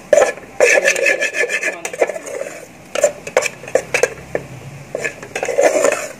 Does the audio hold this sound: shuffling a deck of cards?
no